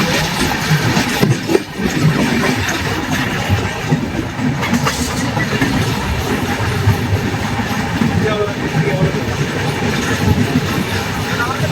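The 12605 Pallavan Superfast Express from Chennai runs along the track, heard as a loud, continuous rumble with rolling wheel noise and rattling carriage sounds inside the train.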